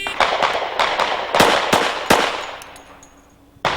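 Pistol shots crack out in a quick string during an IDPA shooting match, about eight sharp, loud reports in under three seconds with ringing tails, then a brief pause and one more shot.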